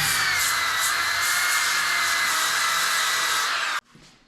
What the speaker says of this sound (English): taking this grinder and this epoxy, the extra epoxy,